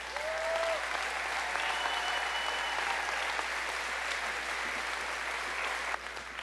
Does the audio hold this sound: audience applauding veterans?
yes